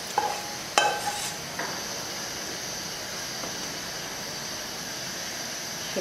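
Sautéed onions tipped into a pot of lentil soup bring a few sharp clinks and a burst of sizzling, then a soft, steady simmering hiss that stays faint and continuous.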